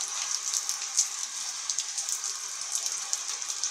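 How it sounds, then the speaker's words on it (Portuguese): Light rain falls steadily at Caponga, a soft continuous hiss with scattered faint drips and patters close by, no voices. "A chuvinha aqui de leve na Caponga."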